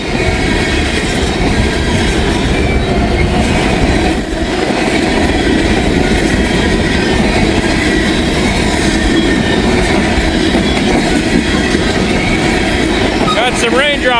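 A long train roars past nearby in a continuous loud rumble with clattering wheels and a faint squeal near the end, heard outdoors as rain starts to fall.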